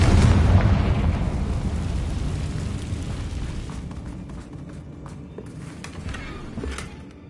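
Fiery Confringo spell blast in the video game Hogwarts Legacy, a loud booming explosion with a dense low rumble that decays slowly, followed by scattered crackling debris and small pops.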